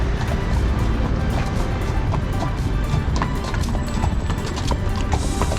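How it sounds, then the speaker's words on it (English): Horses walk along a street in Cannes, their hooves clip-clopping in an irregular stream of sharp knocks amid busy outdoor background noise. "Look at the horses, they are all so lovely."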